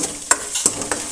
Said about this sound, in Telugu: అల్లం వెల్లుల్లి పేస్ట్ ఏగుతూ ఉంది.